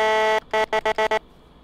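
A police air horn from the Flashing Lights video game: one long loud blast followed by five short rapid honks, then silence.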